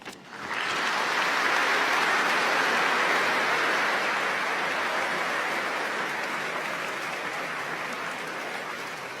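An audience at a talk applauds. Clapping starts abruptly, holds as a steady, dense wash of many hands for several seconds, then slowly thins and softens toward the end, with no voices over it.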